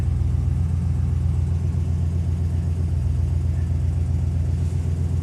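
A 1972 Ford Gran Torino Sport Fastback engine idling on choke after a cold start, a steady low rumble that holds evenly throughout.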